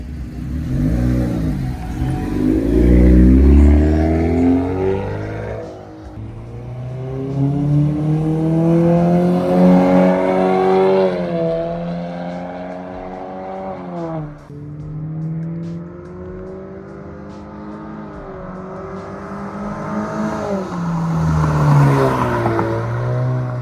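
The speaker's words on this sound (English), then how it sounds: "I will do some drive-by clips now, so you can see the taillights and the exhaust in action." A 2025 Honda Civic Sport with a 2.0-liter engine and modified exhaust drives past, its engine note rising and falling across several passes, revving and fading, with no one talking.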